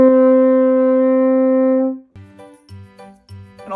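A French horn sounds one long, steady, loud note for about two seconds, then stops and gives way to a few shorter separate notes with brief gaps between them.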